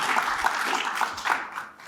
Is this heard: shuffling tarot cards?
no